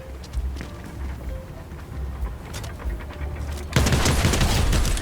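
Rapid bursts of Fortnite gunfire crackle over a steady game background rumble, growing into a dense, loud barrage near the end.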